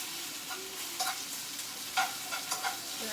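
Spinach sautés in a pan under a soft, steady sizzle while a spoon stirs it in several light scraping strokes spaced about half a second apart. The sound is close but quiet, with no speech.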